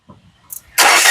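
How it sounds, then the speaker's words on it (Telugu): A 2015/16 Renault Duster RXL turns over with a brief starter whirr and catches on the first try, settling into a loud, steady idle close by. "సింగిల్ సెల్ఫ్ లో కార్ స్టార్ట్ అవుతుందండి"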